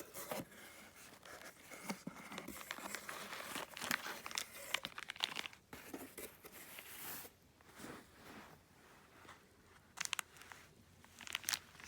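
Crinkling plastic bag around a new 13-inch Frank B Italian stiletto knife, rustling and crackling steadily for several seconds close up, with sharper crunchy bursts and brief pauses.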